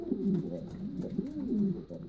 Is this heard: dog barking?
no